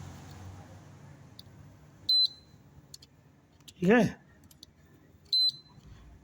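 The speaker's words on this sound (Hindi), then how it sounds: "मैंने इसको लगा कर देखा, बीप बजने लगा है" A DK106 circuit board, freshly fitted with a replacement Viper 12a IC, gives two short sharp electronic beeps a few seconds apart, close and clear, with a brief spoken word between them.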